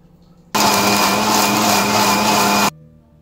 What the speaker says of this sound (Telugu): ఇది దాల్చిన చెక్క, 2 ఇలాచి అండ్ లవంగం ఇది వేసుకొని మిక్సీ పట్టేసుకుంటున్నాను